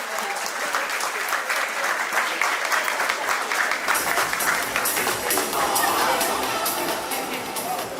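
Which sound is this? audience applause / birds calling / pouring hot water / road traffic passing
audience applause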